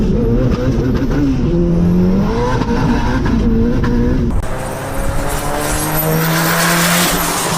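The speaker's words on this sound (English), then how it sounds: "the Toyota Corolla or the Camry is just hauling down the street" A Toyota sedan engine revs hard and speeds past close by on a street, the pitch climbing through gear changes, then another accelerating pass follows with a rising whine.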